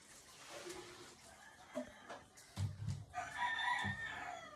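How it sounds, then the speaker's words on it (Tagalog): A rooster crows in a quiet outdoor setting, one rising, strained call near the end with a few faint clucks and rustles before it. "Nara ang manok."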